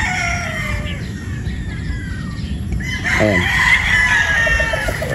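A broodstag rooster crows once at a game farm in Batangas, loud and close, over a busy backdrop of other fowl clucking and calling, with a brief spoken word near the end.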